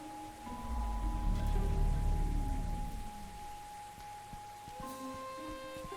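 Steady rain falls in the video game Gibbous: A Cthulhu Adventure, a soft continuous hiss with a low rumble swelling early on, alongside faint tonal game ambience and no speech.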